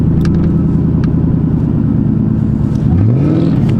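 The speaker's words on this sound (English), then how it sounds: "Car is a little bit rowdy, and I don't want cops to hear it" A Ford Crown Victoria P71 engine revs hard while driving through snow, a loud, steady rumble with a rising pitch sweep toward the end, close and continuous with no talking.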